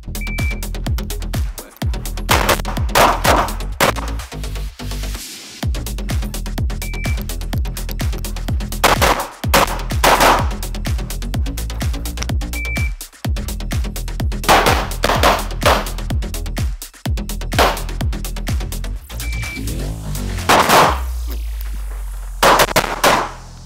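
Repeated close, loud gunshots from shooting practice, fired in quick strings of several rounds with brief pauses between groups, each shot sharp and echoing, with no talking.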